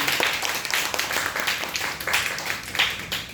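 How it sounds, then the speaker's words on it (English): An audience at a Toastmasters club meeting applauds a speaker named Gary: close, dense clapping from a small group of people in a room, continuous for a few seconds. "So let's give a big applause to Gary"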